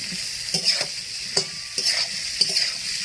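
Cauliflower and potato frying in a pan with a constant soft sizzle, broken by four or five distinct scraping stir strokes spaced about half a second to a second apart, close and clear with no voices.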